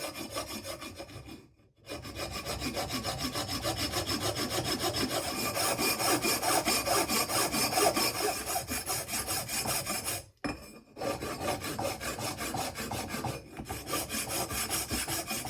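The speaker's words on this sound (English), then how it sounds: "file them down with my coarse file until it's smooth with the existing fins" Coarse hand file rasping across the cylinder barrel fins of a Kawasaki Z1 motorcycle: continuous rhythmic scraping strokes, close and fairly loud, broken by two short pauses.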